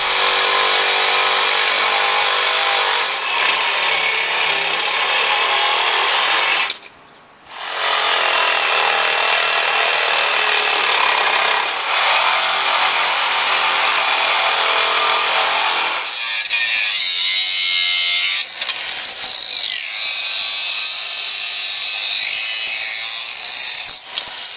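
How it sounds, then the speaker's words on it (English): A power tool cuts metal tabs and small wings off the cross member of a 1965 Mustang being merged onto a truck frame. The loud, steady grinding runs almost the whole time, with one brief pause and a change in pitch near the end. "we cut our little tabs off of the cross member, trimmed off one of the little wings on either one"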